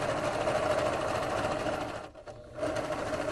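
A serger stitching along a quilt's edge, its steady, fast mechanical whir running continuously with a brief dip and pause before resuming, close and fairly loud with no talking.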